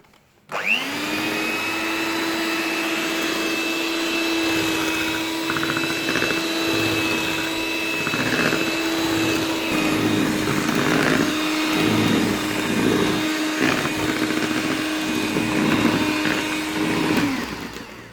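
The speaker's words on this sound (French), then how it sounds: "vous reprenez votre robot et vous fouettez à petite vitesse" A stand mixer whisks a thick meskouta cake batter at low speed, its motor starting abruptly and then whirring steadily and loudly for about seventeen seconds before cutting off.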